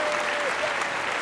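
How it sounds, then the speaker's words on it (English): A brief, steady wash of applause from a group, even and continuous with no breaks, heard alone. "everyone give him a round of applause"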